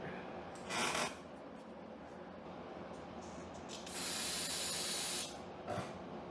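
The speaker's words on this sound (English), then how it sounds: "Squirt that out a little more, make sure we didn't get any brass shavings floating around. Give it another squirt." A spray can squirts cleaner through a carburetor to flush out brass shavings: a short hissing burst, then a longer sustained spray and a brief final puff, close and distinct against a quiet background.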